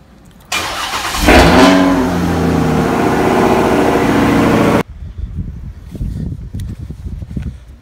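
A Dodge Charger, left sitting for four to five days, cold starts with a sharp crank that catches into a loud, steady high idle for several seconds before cutting off, followed by softer nearby handling noises.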